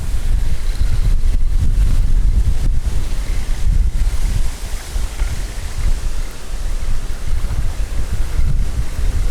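A strong squall of around 28 m/s batters the microphone at a lakeside fishing spot, with loud, gusty roaring buffets that surge and ease unevenly, and water lapping underneath.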